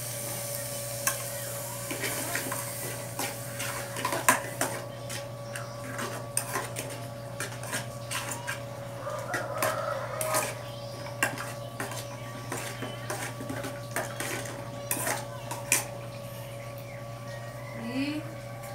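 Peas stirred in butter in a pan, with repeated close clinks and scrapes of a utensil against the metal over a steady background hum and faint sizzle. A voice talks at times.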